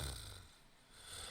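Several characters in the Persona 5 Strikers video game snore together: a low, rumbling, breathy snore that swells, fades and swells again over a second, with no talk over it.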